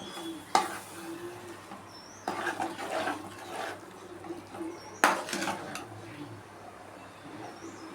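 Ground fennel, fenugreek and cumin being stirred into sesame oil for green chilli pickle, a metal spoon clanking and scraping against the pan in several sharp knocks between softer stirring and faint sizzling.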